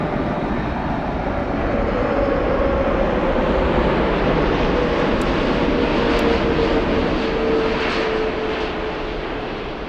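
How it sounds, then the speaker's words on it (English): A Delta Boeing 747 lands at Frankfurt, a loud sustained four-engine jet roar with a steady whining tone running through it, close and unbroken by speech. "Now this time, the 747 landed"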